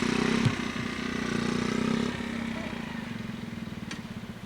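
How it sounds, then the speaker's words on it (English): A motorcycle engine runs steadily with a low, rough, pulsing note, fairly close, with a faint voice briefly underneath. "This motorcycle is very difficult to ride."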